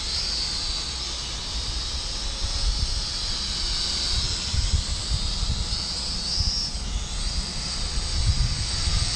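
A Syma X56W toy-grade drone flies a quick circle outdoors in wind, giving a continuous high whine and hiss that rises and falls slightly in pitch over a steady low wind rumble, with no talking.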